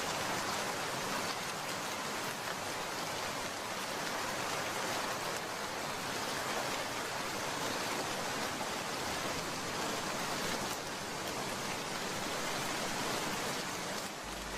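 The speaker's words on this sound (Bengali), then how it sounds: "বৃষ্টিতে লালি একদম ভিজে যাচ্ছে। ঝড় উঠেছে, বিদ্যুৎ চমকাচ্ছে।" Steady, even rain pours down in a cartoon storm, a close, continuous hiss of drops striking surfaces with no pauses.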